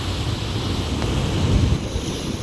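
Ocean surf along the Mar del Plata coast at night, a steady broadband wash of waves with wind noise on the microphone, continuous and fairly loud with no talking.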